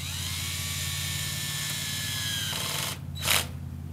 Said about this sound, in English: drill on its slowest speed. It's a two-speed drill.